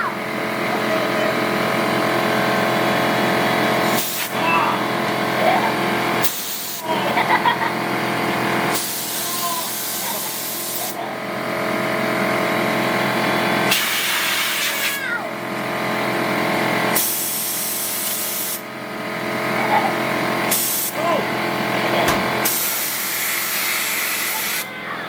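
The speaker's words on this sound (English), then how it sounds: "we're gonna use some compressed air and just blow this thing off" Compressed air blasts off a freshly washed Mercedes 190E M111K engine, loud continuous hissing bursts that stop and start several times over a steady background.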